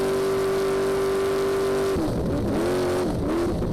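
Rally race car in the NORRA Baja off-road event between La Paz and San José del Cabo, engine held at wide open throttle with a steady high whine, then shifting into wavering revs as it continues loudly and close.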